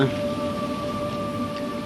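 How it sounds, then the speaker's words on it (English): Steady rain falling outdoors on a wet day in early March 1995, a dense continuous patter with a faint tonal hum underneath. "I wonder when this rain's going to stop."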